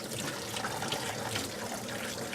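Cold tap water runs steadily over ramen noodles being rinsed in a sink, a continuous soft splashing hiss with no talk.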